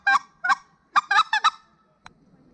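Hand-held goose hunting call blown in clucks mixing loud and soft notes, a few stretched and a few short, in an uneven run of about five sharp honking bursts followed by a faint click.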